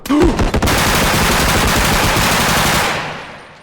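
Loud, sustained burst of rapid automatic gunfire from a bodycam-style shooter video game, a dense rattling stream that runs for a few seconds before tapering off.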